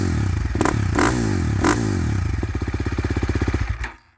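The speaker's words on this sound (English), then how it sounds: "This bike is also extremely loud, one of the loudest bikes I've heard." Loud exhaust from a 2024 GasGas EX 350F dirt bike engine, revving in a few sharp blips before settling into a fast, throbbing idle that cuts off abruptly near the end.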